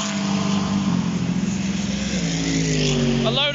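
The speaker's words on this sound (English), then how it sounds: "A load of cars going by now." Engine noise from several British GT race cars passing close by at Brands Hatch during qualifying, a steady roar with rising and falling pitch as vehicles rev and speed past.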